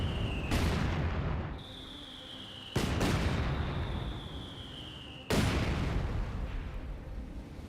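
Mortar shells strike one after another in the strategy game Company of Heroes 2. Three loud, close booming impacts land about every two and a half seconds, each rumbling on amid steady battle noise, with no talking.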